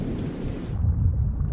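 Thunder from a lightning strike, a deep, heavy rumble that swells and holds close and loud, its upper hiss cutting off midway while the low roar continues.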